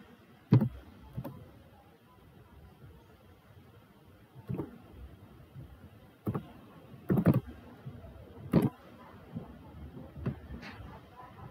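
Computer keyboard keys tapped in scattered short bursts while entering a symbol search in Word, close and fairly crisp with gaps between presses, no speech.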